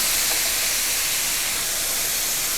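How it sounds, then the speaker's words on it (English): Beef searing in a hot pan for beef stroganoff, a steady, loud, unbroken hiss of sizzling fat and steam with no talk over it. "We're just gonna get it seared, as you see here."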